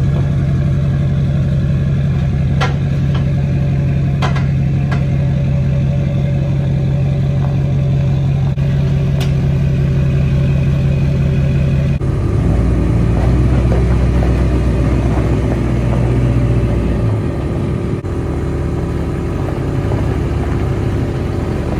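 A Duramax diesel truck engine rumbles steadily and loudly, close by, as the truck rolls off a trailer, its low drone shifting partway through as the load on the engine changes.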